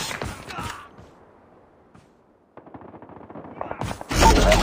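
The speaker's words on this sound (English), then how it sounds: "Friendly sentry gun deployed." A deployed sentry gun in a Call of Duty domination match rattles off rapid automatic fire at the start and end, with quieter mechanical clicking and creaks in between.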